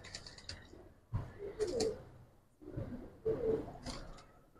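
Pigeons, giribaz and coloring breeds kept by a fancier, sound in a quiet loft with soft low cooing and rustling in two bursts, fairly faint and close.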